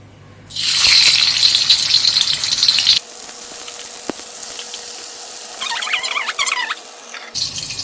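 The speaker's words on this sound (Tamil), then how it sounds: "ஃபர்ஸ்ட் பெரிய பீசஸா போட்டு வறுத்து எடுத்துக்கலாம்" Large pieces of chicken 65 drop into hot oil with a sudden loud rush of sizzling, which settles into steady bubbling frying and then a softer crackle.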